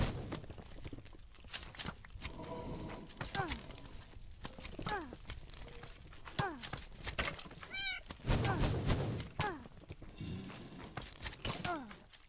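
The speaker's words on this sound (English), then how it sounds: "The cat has no fish to eat." Repeated rising meows from a cat in a Minecraft modpack game mix with game thuds, breaking and footstep sounds, while a voice talks over them.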